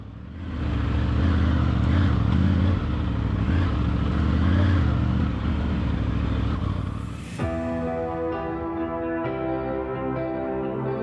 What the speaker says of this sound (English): It's still a pretty big bike, but if you ride it like a trail bike